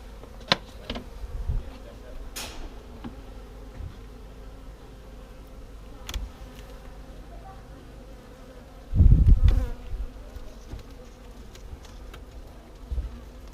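Honeybees buzzing steadily around an opened home hive during a spring inspection, a continuous close hum with a few louder bumps and handling thuds, no talking.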